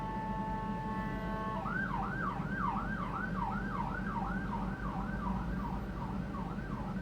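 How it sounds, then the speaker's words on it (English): A wailing siren rises and falls repeatedly in a fast, steady cycle, heard at moderate distance over constant low traffic rumble. "I'm hearing sirens going off now."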